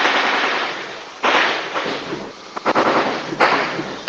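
Bursts of gunfire in Bamenda, Cameroon crackle in rapid, irregular volleys, loud and harsh, with short pauses between the rattling shots.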